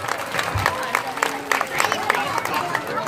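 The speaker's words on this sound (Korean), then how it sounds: "박수 한번 부탁드립니다" An audience at a laughter concert on filial love at Nambu University claps together in a steady patter, close and lively, with crowd voices murmuring underneath.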